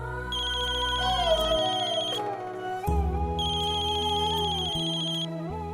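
A telephone rings indoors with a bright, melodic electronic ringtone that repeats in two clear phrases, loud and alone with no voices.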